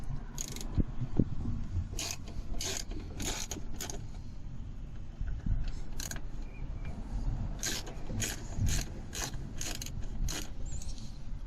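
A ratchet turns T25 Torx screws on a Smart car door, giving repeated bursts of quick, close clicking spread through the clip over a low mechanical background.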